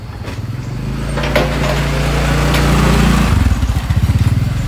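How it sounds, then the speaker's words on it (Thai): A small gasoline engine drives a rope winch anchored to a truck, hauling a rotary rock drill rig into position; the motor runs steadily and loud up close, its pitch shifting near the end with a pulsing, chugging rhythm. "ก็ทำการหมุนมอเตอร์อันนี้ก็มอเตอร์เนี่ยใช้เครื่องยนต์นะครับ"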